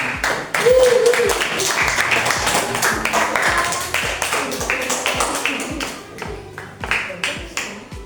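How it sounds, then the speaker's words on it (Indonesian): Students in a classroom coding lesson give a round of applause for the winning groups. The clapping is uneven and moderately loud, with distinct individual claps audible through it. "Tepuk tangan"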